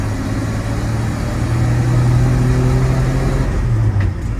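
A restored 1953 Chevrolet 3100 pickup truck drives along on radial tires, its engine droning steadily with a low, even hum that climbs slightly in pitch as it gains speed, continuous and close with no talk.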